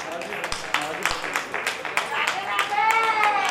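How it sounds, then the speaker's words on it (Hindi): An audience at a Shrimad Bhagwat katha gathering in Vrindavan claps in a loose, uneven burst of sharp hand slaps. Voices and some background chatter run underneath, and the sound grows denser toward the end. "ताली बजाइए जोर से।"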